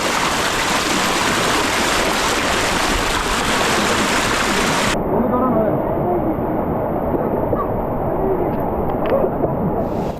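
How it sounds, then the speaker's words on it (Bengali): Strong current of a flooded hill stream on the Napittachora trail, a loud, dense, continuous rush of water close by, its hiss dulling abruptly midway. "কখনো জিরির পানির প্রবল স্রোত"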